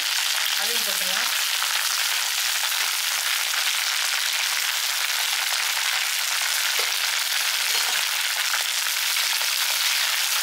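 Dried red chillies, green chillies, coriander and mint fry in a pan, giving a steady, loud broadband sizzle that runs unbroken throughout with faint stirring scrapes.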